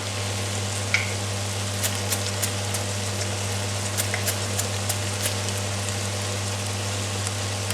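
Oil and a wholemeal tortilla heat in a frying pan, giving a steady crackling sizzle with scattered pops over a constant low hum, continuous and close.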